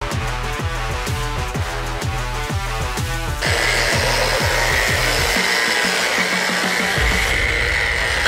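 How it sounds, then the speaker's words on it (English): A power tool buffing a homemade surfboard: a loud, close, steady whirring drone with a rhythmic pulsing pattern at first, then shifting to a harsher, brighter continuous hiss as the pad works the board, with no voices. "Pretty satisfying to buff it."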